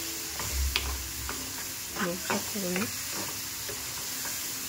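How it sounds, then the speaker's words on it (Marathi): Chopped capsicum roasts in a pan with a soft, continuous sizzle, while a spoon scrapes and stirs in a few short strokes and a voice hums faintly in the background. "आता हे कॅप्सिकम म्हणजे आपली शिमला मिरची, ते आता 1 घेतलेलं मी चॉप करून, आता तेही ह्यामध्ये छान भाजून घ्यायचं आहे"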